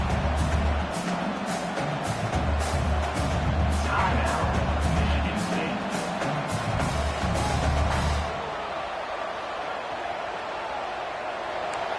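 A stadium crowd in a college football video game, Oregon against Michigan State, roars as a loud, steady wash of cheering and noise that drops to a quieter hum near the end.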